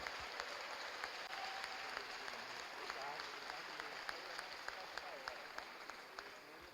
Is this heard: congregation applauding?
yes